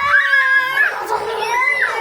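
Young girls scream during a pretend vampire game, with high, piercing squeals that rise and fall in pitch and hold loud and close for about two seconds.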